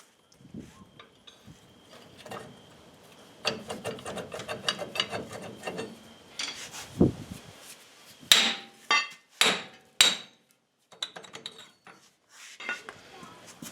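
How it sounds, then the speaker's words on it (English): A hammer strikes a damaged spindle cone on a wrecker axle, with scattered metallic knocks and ratcheting clatter early on, then several loud, sharp ringing blows spaced about a second apart near the end. "we're going to have to use the hammer method to get it off"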